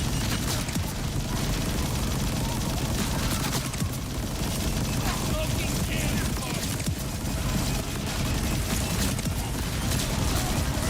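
Rapid automatic gunfire from a high fire-rate weapon in the shooter game Borderlands 4, a dense continuous volley of shots with ricochets running steadily throughout at a loud, even level.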